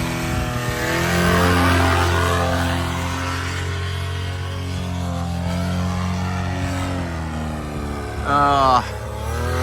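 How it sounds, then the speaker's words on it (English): A paramotor engine running rough after a crash drones and surges unevenly, with pitch wavering up and down throughout, close and fairly loud, and a brief voice cuts in near the end. "That motor sounds like it's not too happy."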